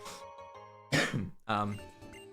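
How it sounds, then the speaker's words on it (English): A person clears their throat and coughs a few times in short, harsh bursts, with a quiet pause between them. "I'm gonna start coughing again."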